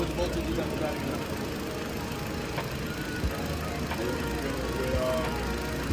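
A car engine runs at idle with a steady low rumble and faint knocking, while people talk over it nearby.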